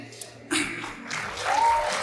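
Audience applause breaks out at a live music and storytelling performance at a literature festival. Clapping swells suddenly after half a second of quiet and keeps building, with a few voices mixed into the crowd noise.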